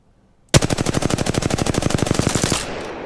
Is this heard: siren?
no